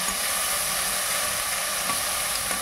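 Spice paste frying in oil for a drumstick curry gives a steady, even sizzle and hiss, close and unbroken, with a few faint stirring clicks and no talking.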